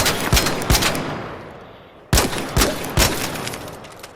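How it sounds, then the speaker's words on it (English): The Volcano semi-auto shotgun fires in ARC Raiders, several heavy booming blasts spaced about half a second apart, each with a long ringing tail, loud and close, then a second burst after a short gap. "Here's the Volcano. It is a semi-auto shotgun, very devastating at close range."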